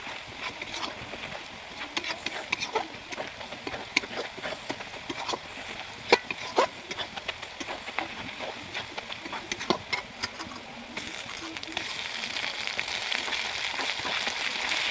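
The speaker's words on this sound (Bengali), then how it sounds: "রসুনটা ভাজা হয়ে আসছে" Garlic frying in a pan on a home stove, giving a steady crackling sizzle with scattered sharper pops, fairly close and consistent throughout, growing slightly louder toward the end.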